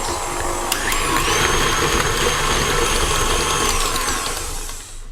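An electric hand mixer whirs loudly and continuously through carrot cake batter, a close motor whine holding steady with tonal rises as the speed changes, no voices.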